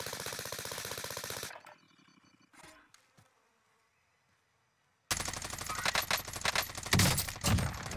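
Rapid automatic gunfire in the video game Warzone Caldera rattles in dense bursts, cutting off into near silence before another loud, sustained volley erupts, busy and close.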